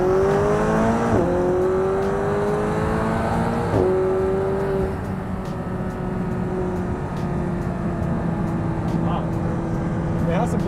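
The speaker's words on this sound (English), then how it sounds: "you'll be able to hear all the engine sound for all the videos" A McLaren 570S Spider engine revs and pulls hard, with rising tones climbing under acceleration and then settling into a steady loud drone, close up inside the car.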